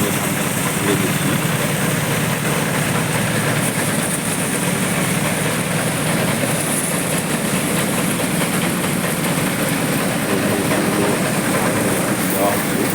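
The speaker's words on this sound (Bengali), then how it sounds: "দেখুন এখানে আমরা কীভাবে ধানটা ঝেড়ে দিচ্ছি।" A paddy threshing machine running while rice is threshed, a loud continuous mechanical roar and rattle with steady motor drone throughout.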